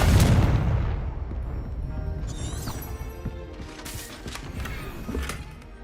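Confringo blasting spell in Hogwarts Legacy, a loud booming explosion at the start that decays into a rumbling tail with scattered mechanical clinks and creaks.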